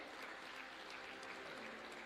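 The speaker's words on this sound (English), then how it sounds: "A round of applause for all the contributors today." Lecture audience at the Thabo Mbeki Africa Day Lecture in Tanzania applauds, a dense, even wash of clapping that holds steady and fairly faint throughout.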